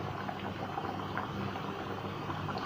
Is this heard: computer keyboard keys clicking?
no